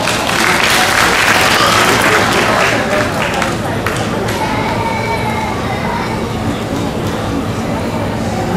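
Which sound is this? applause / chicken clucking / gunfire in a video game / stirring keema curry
applause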